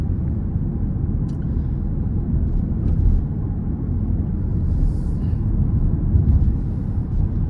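2025 Audi S5 accelerating from inside the cabin: a steady, loud low-frequency engine and road rumble that swells slightly without breaks.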